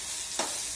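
Sponge gourd cooks in a pan on a gas stove with turmeric and coriander powder, giving a short, steady hiss of sizzling with a faint stir mid-way.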